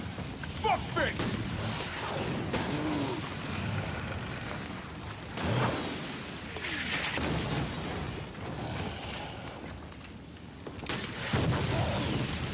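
Missile launcher fire in Resident Evil 3, heard as repeated loud booming blasts and bursts of gunfire over a dense, noisy game mix with ongoing action sounds.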